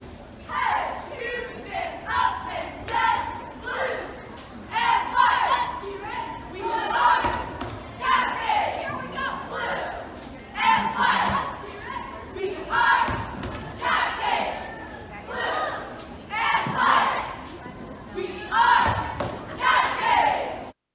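A competition cheer crowd yells chant calls in rhythm during a routine. Loud, dense group shouting pulses steadily, with thumps underneath.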